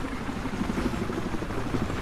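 In the video game Battlefield Hardline, a helicopter's rotor gives off a steady, loud, throbbing chop that holds constant throughout.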